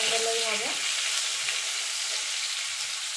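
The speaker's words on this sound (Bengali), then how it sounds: "দিয়ে ঝিঙেটা একটু ভাজা ভাজা করে নেব।" Ridge gourd sizzling as it fries in a pan, a steady close crackling hiss with a brief clatter of stirring at the start and no talking.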